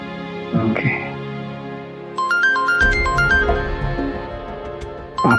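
A phone ringtone plays a bright, stepping electronic melody over a background of voices and murmur, loud and close.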